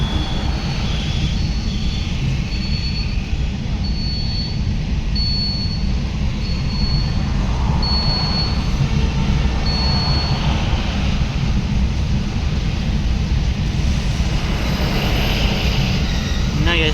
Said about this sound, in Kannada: ಇವಾಗ ಟ್ರೈನ್ ಹೋಗ್ತಾ ಇದೆ ನೋಡಿ